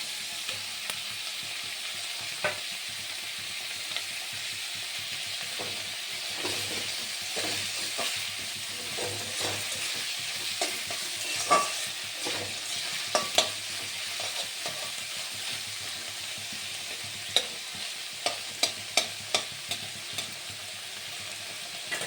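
Ginger, garlic and dry chili paste frying in a pan of oil for a moong dal with rohu fish head, a steady close sizzle with scattered sharp pops and spatters that grow more frequent toward the end.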